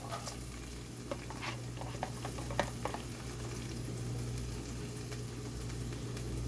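Onions sautéing in a pan of meat drippings give a steady, soft sizzle with occasional stirring clicks and scrapes from a spoon, close and continuous without talk.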